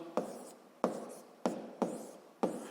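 Pen or pencil writing out a physics problem, with five crisp, close strokes spaced at regular intervals, each starting sharply and trailing off.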